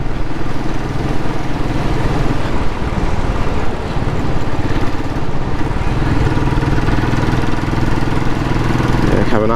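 A Royal Enfield Classic 500 motorcycle thumps along on a winter ride, its single-cylinder engine droning steadily and fairly loud throughout, with wind rumble mixed in.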